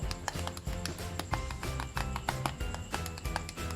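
Fingers tap on the plastic back of a Hiphone Y6P smartphone, giving a quick series of light, close clicks in an irregular rhythm.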